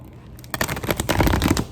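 Quick riffle shuffling of tarot cards, a dense crackling flutter starting after a brief quiet moment and continuing steadily close by.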